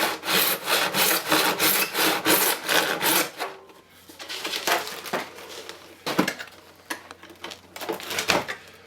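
A band saw cuts through wood in a rapid series of loud rasping strokes, then the blade runs on more quietly between a few sharper bursts of cutting and rubbing.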